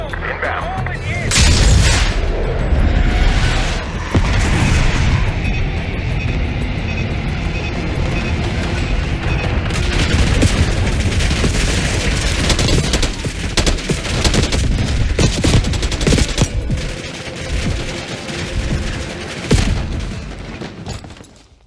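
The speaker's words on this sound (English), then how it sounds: "Airstrike's inbound." Airstrike explosions during a Call of Duty: Black Ops 6 battle, dense rolling blasts and rumbling booms layered with rapid gunfire, loud and continuous for about twenty seconds, with some voices beneath.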